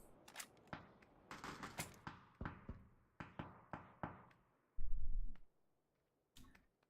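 Scattered gunshots in a PUBG match at the Global Invitational 2018 Oceania qualifiers, sharp separate cracks at irregular intervals, followed by a brief low thump and a final shot, fairly quiet overall.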